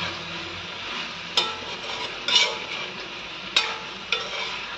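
Papad frying in hot oil in a kadai gives a steady crackling sizzle, with a few sharper pops and spatters standing out at intervals. No voices are heard.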